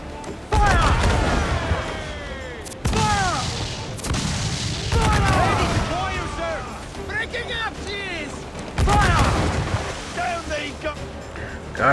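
Pirate-ship cannons fire in Assassin's Creed IV Black Flag, several heavy booming broadsides spaced a few seconds apart over rolling ocean waves, with shouting voices and crew chatter mixed in.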